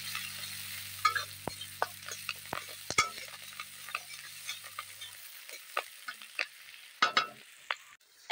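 Onion, garlic and green chilies frying in hot oil, a steady sizzle broken by sharp clinks and scrapes of a utensil stirring the pan, close and moderately loud with no voices.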